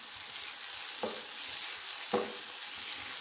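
Boiled potatoes being stirred into a sizzling masala in a pan for aloo bhindi: a steady close-up frying hiss with two distinct scraping strokes of the spoon, no talking.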